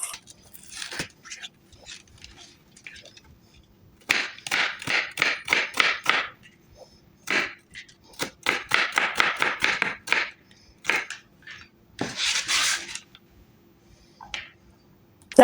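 A knife chops carrots and then celery on a cutting board, fast rhythmic bursts of close, crisp blade taps separated by short pauses, for a simple budget Thanksgiving dinner.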